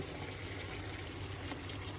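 Mixed canned beans, butter beans and chickpeas among them, poured into a curry pot, giving a soft, steady wet trickle and slosh of liquid that runs evenly throughout, quiet and close.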